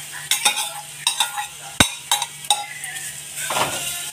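Carrots sauté in ghee in a kadai, a faint sizzle under repeated clinks and scrapes of a ladle against the metal, one sharp knock standing out, close and uneven in rhythm.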